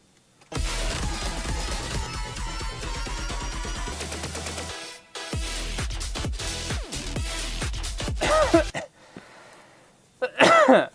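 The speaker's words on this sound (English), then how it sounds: "Coughed a bit too hard there." Harsh, loud coughing in bursts, with a long noisy stretch followed by several sharp coughs and a couple of brief breathy sounds at the end, heard close up.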